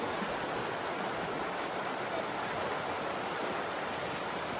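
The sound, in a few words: river water flowing at Glenfinnan, Scotland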